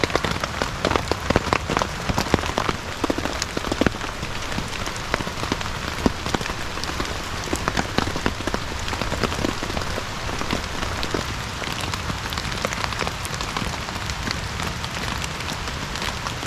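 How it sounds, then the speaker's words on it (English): Steady rain patters on a taut tarp shelter overhead while camping, with dense, close drops and occasional louder splats, continuous and fairly loud throughout. "I'm just relaxing, listening to the rain."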